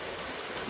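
Rain falling in Clarendon after a long drought, a steady, even hiss of water that fills the whole short moment with no voices.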